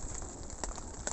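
Steady rain patters on an 8x6 ft Army basher poncho pitched as a tarp at a wild campsite by a reservoir, a dense close hiss with a few sharper drop taps and no talking.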